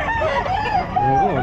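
A rooster crows loudly and close by at the Bocaue pet market in the Philippines, its long wavering call filling the clip, with faint background chatter.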